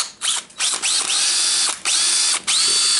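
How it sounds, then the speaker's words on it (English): A faulty DeWalt DCD776 18V cordless drill motor whirs in repeated short bursts, each spinning up with a rough, grinding, ratcheting rattle, then briefly stopping. Close and loud, with no talk. "Yeah, the motor has some really bad sounds."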